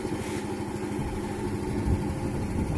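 A Racer Corvus 50 motorcycle engine idles just after starting, with a low, steady, fairly quiet putter and a hissy background.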